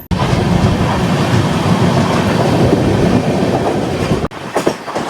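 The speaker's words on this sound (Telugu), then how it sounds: "ఇదిగోండి ఇక్కడ నుంచి మన ట్రైన్ రైట్ సైడ్ వెళ్ళిపోతుంది" A train rumbles loudly along the tracks near Lucknow station, with a continuous roar of wheels and rattling carriages close by, then an abrupt drop near the end.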